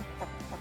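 Chickens clucking in a paddock: two short, close clucks in quick succession over a low steady background, with no talking.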